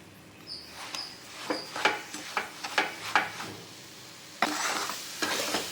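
Moong dal halwa with sugar and ghee stirred in a hot pan: a series of distinct scraping strokes over soft sizzling, then a louder, steadier sizzle rising near the end, with no speech.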